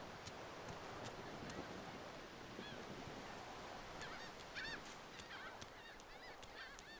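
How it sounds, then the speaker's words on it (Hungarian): Seagulls call in high, repeated cries over a steady beach backdrop of surf and wind in the Divinity II game, the calls becoming clearer and more frequent toward the end. "ahogy itt a sirályok hangját hallani a parton"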